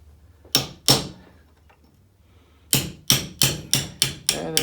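Sharp metal hammer blows on a 12mm socket pressing out the idle gear bushing of a Yamaha Banshee engine: two loud close strikes, a pause, then a quick run of about six ringing hits.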